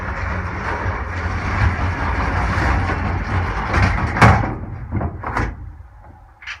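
A truck's loading ramp is unclipped, its pin pulled and the ramp rolled out, giving a steady metallic rumble and scraping that ends in a few sharp clanks and knocks close by, with no voices.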